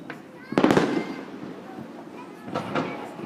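Swiss National Day fireworks boom and crackle in two bursts, fairly close and loud, with a low rumble and a voice speaking between them.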